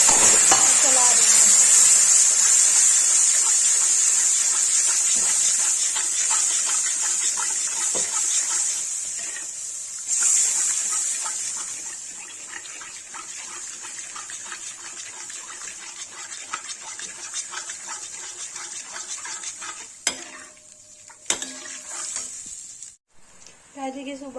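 Turmeric, red chilli and other spices stirred in hot oil for Kashmiri dum aloo, with a loud hiss and sizzle at the start that slowly fades, a few sharp knocks, and near-silent gaps toward the end.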